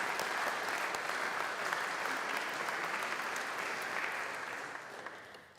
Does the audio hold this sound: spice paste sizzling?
no